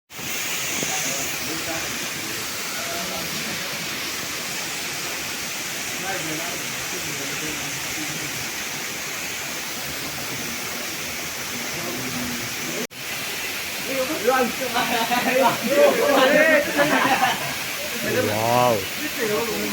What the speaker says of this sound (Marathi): वरून वाहणारा एक धबधबा आहे कायम मस्त सुंदर आहे